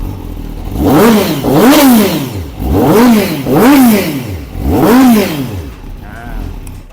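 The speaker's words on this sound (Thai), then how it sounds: "มาฟังเสียงท่อก่อนเลยครับ ท่อฟูอาคานะ" A Grand Prix Red Honda CBR1000RR-R Fireblade SP with a full Akrapovic exhaust revs close and loud in a series of sharp blips, mostly in pairs, each rising and falling before settling back to a rumbling idle.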